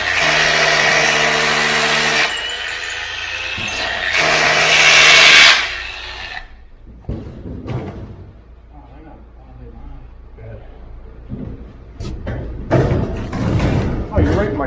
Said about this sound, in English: Let the drill do the work, don't push too hard.